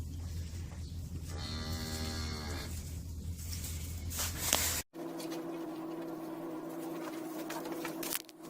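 Cattle mooing as they are loaded into a livestock trailer, a few long bellowing calls close by over rattling and shuffling noise, followed by a sharp bang and a lower steady drone.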